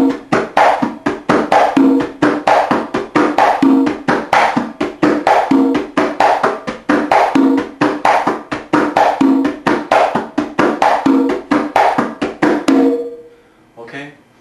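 Congas play a salsa tumbao variation in which a sharp slap takes the place of the first open tone, giving a steady repeating pattern of crisp hand strikes that stops near the end.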